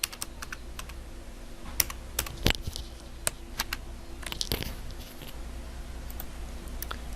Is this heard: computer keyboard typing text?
yes